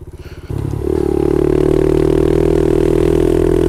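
A Honda pit bike engine starts up after a few sputtering pulses and settles into a loud, steady idle that builds slightly, close by.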